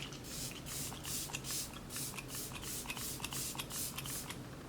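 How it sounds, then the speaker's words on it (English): A rapid series of short, hissing spritzes from a makeup setting spray pump bottle, repeated about a dozen times in a quick, uneven rhythm, close and fairly quiet. "So just spray this."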